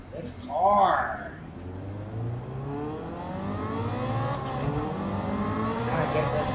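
Race car engine in a racing game with a manual transmission, revving and climbing through gears in sweeping rising tones, loud and continuous, with a brief burst of talk near the start.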